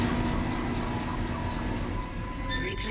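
A tram car from the Dead Space game (2008) moving along the Ishimura's rail system, a steady rumbling rail drone with a faint squealing tone near the end, continuous and fairly close with no voices.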